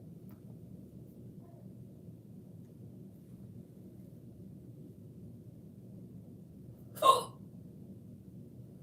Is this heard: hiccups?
yes